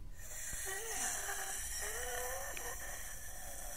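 Heavy, rasping breathing effect from the horror video game The Diary of Hisakawa Mai, a continuous snore-like wheeze over a droning background hum, steady in loudness throughout with no speech.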